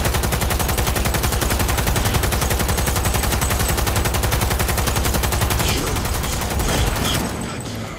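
Rapid automatic gunfire from smart bullets in Cyberpunk 2077, a loud, dense, unbroken burst of shots close up that runs for several seconds before tapering off at the end.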